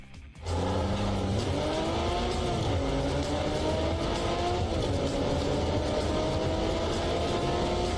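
A racing car engine from the underground street-racing video game Overspeed revs under acceleration, its pitch climbing and shifting through gears. Faint tire squeal sits over a continuous, close, loud drone.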